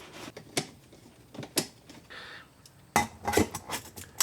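Screws being fitted to attach a handle to the lid of a Vevor aluminum melting furnace, with scattered sharp metallic clinks and taps, a brief whirring turn in the middle and a cluster of clattering knocks near the end.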